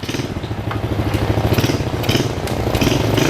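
A small HSX 110 manual mini trail motorcycle engine runs loud and close in a steady, throbbing putter while its transmission is tested, with slight shifts in revs and light mechanical clatter.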